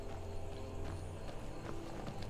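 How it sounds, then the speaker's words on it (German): Horse hooves clip-clop faintly in the Skyrim video game, a soft irregular patter of steps under a low ambient background, distant and without voices. "Ich habe das Pferd auch hier irgendwo gerade gehört."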